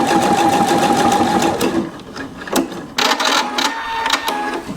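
A Pfaff 720 sewing machine stitching a buttonhole on fabric, a rapid mechanical whirr of needle strokes that slows and pauses, then resumes in short clattering bursts close by.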